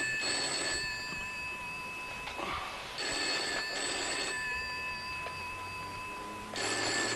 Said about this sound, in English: Your phone's ringing. Do you want me to answer it?